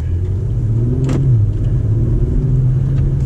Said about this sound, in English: So we're gonna drive it. We're ready in sport mode. We're gonna let go of the parking brake.